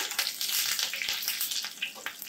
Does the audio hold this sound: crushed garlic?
yes